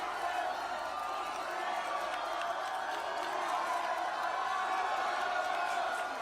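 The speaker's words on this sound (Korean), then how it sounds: "큰 박수 부탁드리겠습니다" Crowd applauding and cheering at an outdoor political rally in Geoje, South Korea: a continuous distant wash of clapping and shouts, fairly faint and unbroken for the whole stretch.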